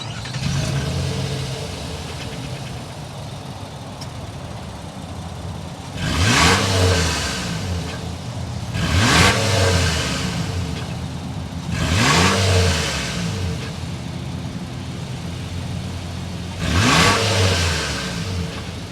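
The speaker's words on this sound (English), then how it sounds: "start it up so you can hear that exhaust note" A 2022 Infiniti QX60 V6 engine revs repeatedly through its exhaust, four rising roars spaced a few seconds apart over a steady idle, loud and close.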